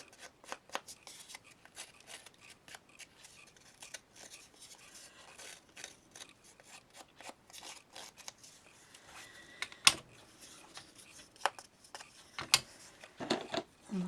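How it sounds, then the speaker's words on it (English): Scissors rasp in a run of quick, light scraping snips against paper edge, close up and fairly quiet, with a few louder clicks near the end. "I'm going to rough up the edge with my scissors"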